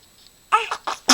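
A small, high-pitched sneeze from a kitten, a quick burst after brief quiet followed by a couple of short snuffly sounds, close and clear.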